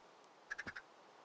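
A small yellow duck in a Minecraft survival world gives four quick, faint quacks in a rapid run over a quiet background hiss, with no talking.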